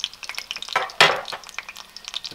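Breaded chicken frying in a pan, giving a close, crisp crackling sizzle with brief louder bursts, as when a piece is turned, and no voices.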